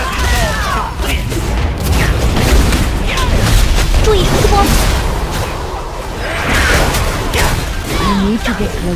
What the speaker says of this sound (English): Cannon! Blast these scurvy men to bits!